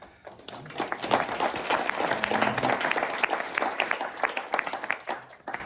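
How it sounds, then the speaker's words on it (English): Audience applause breaks out at a conference hall event on reparations for Russian atrocities against Ukraine, a dense, sustained burst of many hands clapping that holds steady for several seconds before tapering off. "After that applause"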